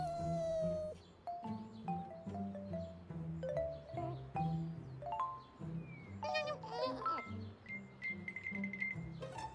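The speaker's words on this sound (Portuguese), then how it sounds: "De onde vem esse miado de gato?" A cat meows several times among tinkling chime-like tones and light background sounds, the meows rising and falling in pitch.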